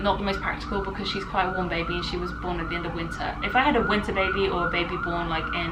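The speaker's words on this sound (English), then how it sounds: "sorry about the sirens" Emergency sirens wail continuously in the background while someone talks steadily over them.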